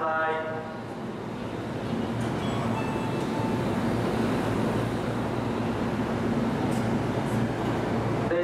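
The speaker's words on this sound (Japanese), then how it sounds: "元町中華街行き最終電車です。 発車いたします。" The last Tokyu train to Motomachi-Chukagai pulls out of Shibuya station, a steady rolling rumble of cars filling the platform alongside a brief chime at the start.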